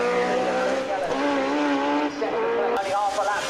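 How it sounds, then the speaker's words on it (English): Legends race cars in the 2012 Legends Car Championship at Cadwell Park, heading onto the final lap, with loud engines droning and shifting pitch continuously as the pack passes close by, with commentary over the racing. "So the car's now heading on to their final lap of the weekend here at Cadwell Park."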